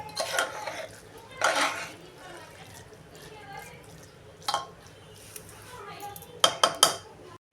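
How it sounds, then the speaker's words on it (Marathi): Saffron coconut rice being stirred and mixed in a pot, giving intermittent scraping and clinking of a spoon against metal in short separate bursts with quiet gaps between them. "आणि आता हा आपण खालीवर करून चांगला एकसारखा मिक्स करून घेऊया"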